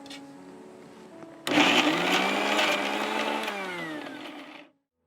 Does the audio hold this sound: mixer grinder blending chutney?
yes